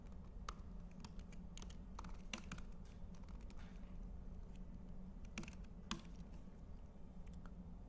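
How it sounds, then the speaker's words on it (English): Rapid keystrokes on a computer keyboard as a password is typed, a close, light, irregular patter of clicks against faint background hiss, with no talking. "So now if we start typing in a password,"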